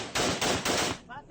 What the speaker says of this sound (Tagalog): Salit-salitang pinaputok ng grupo ng kalalakihan ang M16 Armalite rifle sa liblib na lugar sa Arayat